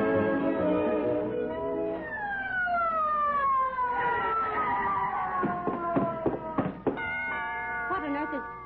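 A wailing ambulance siren effect from an old radio comedy show sweeps down in long falling tones, loud and close, then gives way to a clatter of knocks or footsteps, with voices speaking over it.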